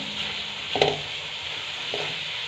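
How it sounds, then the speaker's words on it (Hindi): Onions being stirred into a frying vegetable biryani masala in a pot, with a soft steady sizzle and two brief scraping stirs, the first louder than the second. "प्याज को शामिल करने के बाद एक दफ़ा मिक्स करेंगे"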